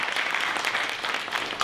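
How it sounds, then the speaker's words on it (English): An audience at a DisruptHR speech breaks into applause, a dense, steady wash of many hands clapping for a brief moment with no pauses. "can you have a round of applause for..."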